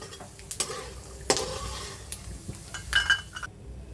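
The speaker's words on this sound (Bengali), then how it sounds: "সাবুদানা খিচুড়ির জন্য বাদামটাকে একটু ভেজে নিলাম।" Peanuts roast in a pan for sabudana khichdi, a soft sizzle under scattered scraping stirs and light metallic clinks of a spoon against the pan, close and moderately quiet, with no talking.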